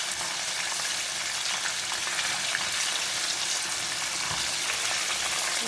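Steady, dense crackling and bubbling of homemade chicken nuggets deep frying in hot oil, continuous and fairly loud with no voices.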